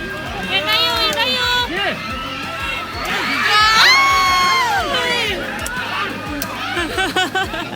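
A crowd of football fans cheers and chatters at Sam Ao Stadium in Prachuap for a PT Prachuap FC match, with a roar that swells in the middle, plus whistles and shouts under nearby talking.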